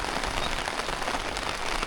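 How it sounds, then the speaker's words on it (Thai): Rain pours down steadily over a Sunday morning outdoor market, a dense, even hiss of drops drumming on surfaces with no pauses, loud and close throughout. "ฝนตกแล้ว"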